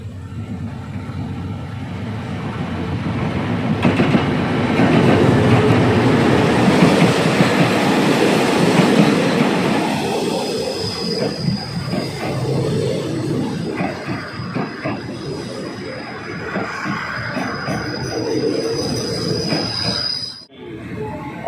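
Express train 86 pulls into Na San station in Thailand with a loud rumbling roar of wheels that eases into long high-pitched squeals of braking wheels, ending with a brief dip.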